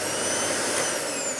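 An Electrolux Bolido cylinder vacuum cleaner runs at full power with a loud, steady roar and a high motor whine, close and unbroken throughout with no talk.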